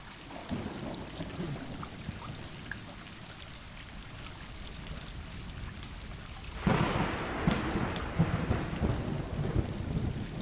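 Steady rain with deep rumbling thunder in the video game Stray, swelling into a heavier downpour with sharper crackling strikes partway through; no voices.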